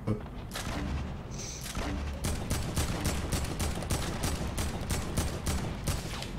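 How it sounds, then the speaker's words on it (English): Gunfire in Fortnite Battle Royale: sharp, evenly spaced rifle cracks repeat through a tense firefight, loud and close, with a player talking over them. "Oh, I just got sniped from the left."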